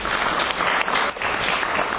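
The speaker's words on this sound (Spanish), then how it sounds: "Lo recibimos con un aplauso." An audience bursts into brief, loud, dense applause welcoming the mayor of Granada, Spain, at a ceremony in Buenos Aires, the clapping sustained and uniform with a short dip partway through.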